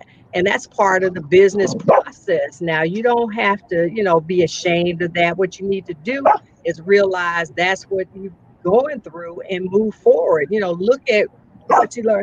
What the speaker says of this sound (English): That's my dog, who's super spoiled and want to be all in my face.